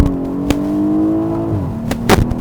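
A BMW 8 Series Gran Coupe's engine revs close by, a loud steady drone holding pitch then dropping slightly, broken by a few sharp pops and blips near the end.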